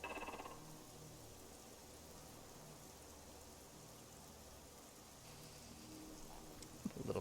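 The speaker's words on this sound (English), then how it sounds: "Oh no, it's raining." Steady rain falling in a video game, a soft continuous hiss of drops on surfaces that holds at an even level throughout, with faint ambient noises and a brief knock near the end.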